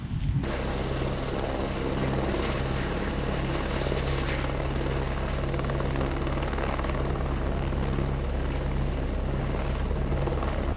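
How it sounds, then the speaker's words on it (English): A camera drone flies back over the sea from where dolphins and whales were sighted, giving a steady, loud rotor whir and hum that holds constant throughout with no talk. "All right, I'm gonna get this drone home"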